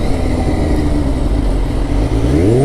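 Loud, close engine roar from a Kawasaki H2 motorcycle on a ring road, a steady throaty drone with a rising pitch sweep near the end as it revs, no talking.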